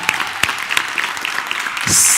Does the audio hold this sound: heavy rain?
no